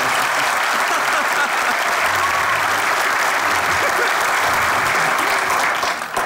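A studio audience at a comedy sketch show gives loud, dense, sustained applause that holds at full strength for several seconds before easing off.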